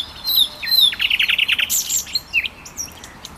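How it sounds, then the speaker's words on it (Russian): Small birds chirp and sing at night in Grozny, Chechnya, a bright run of quick repeated tweets followed by scattered calls, fairly close and clear over a quiet background. "наслаждаться пением птиц. Как в лесу, только это ночь в Грозном."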